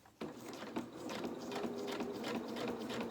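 A sewing machine stitches fabric with a fast, steady mechanical whirr and needle clatter that starts abruptly and runs continuously at close range.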